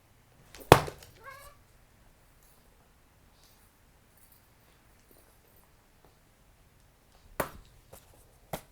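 A cat gives a short meow-like call near the start, followed by a couple of quieter bumps, then a long hush before another sharp knock and brief movement near the end.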